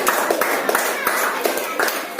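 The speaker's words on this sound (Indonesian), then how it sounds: "Tepuk tangan untuk kelompok 2 dulu" A classroom group applauds the second group with a steady burst of many hands clapping, dense and fairly loud throughout.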